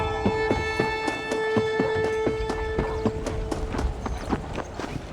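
Horse hooves clip-clop in Red Dead Redemption, a steady rhythmic run of hoof strikes over a constant tonal backdrop of game music, close and clear with no talk.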